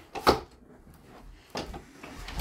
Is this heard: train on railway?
no